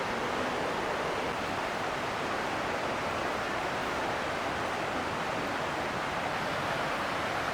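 Steady, full rushing of a clear river flowing through Nakatsugawa Gorge in Fukushima, Japan, dense and unbroken throughout, with no voices or other sounds standing out.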